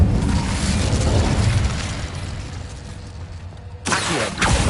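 Incendio fire spell cast in the Hogwarts Legacy video game, a loud whooshing burst of flame that rumbles and fades, then a second sharp fiery blast near the end.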